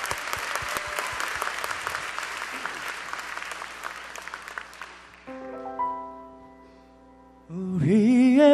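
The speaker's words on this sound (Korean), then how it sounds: "하나님께 영광의 박수 올려드리겠습니다" A church congregation applauds steadily for about five seconds before the clapping fades out, then sustained keyboard or synth tones from the church pastors' band begin, with a rising instrumental swell at the end.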